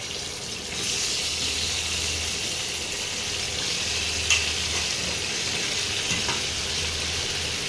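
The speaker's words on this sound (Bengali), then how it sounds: "পটলগুলোকে একটু ভেজে নিতে হবে" Round slices of pointed gourd sizzle steadily in hot oil with turmeric and salt, a continuous frying hiss with occasional soft stirring scrapes and no talking.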